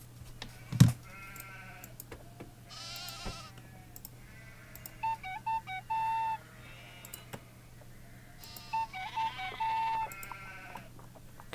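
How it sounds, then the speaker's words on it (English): Sheep in the Nancy Drew game The Haunting of Castle Malloy bleat several times at uneven intervals, fairly faint, with a sharp knock near the start and quiet electronic tones in between. "Come on in, sheepy sheep."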